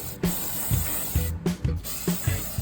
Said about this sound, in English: I'm gonna just spray them with a brake cleaner to degrease them